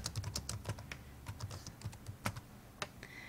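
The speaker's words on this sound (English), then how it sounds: "you can draw a text box and start typing in the text box" Typing on a computer keyboard while a text box is filled in a Google presentation: a brisk, uneven run of close, crisp key clicks, with no voices.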